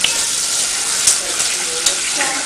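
Bananas flambéing in a pan right after alcohol is poured in, giving a steady broadband hiss and sizzle with a few brief pops and crackles, close and fairly loud.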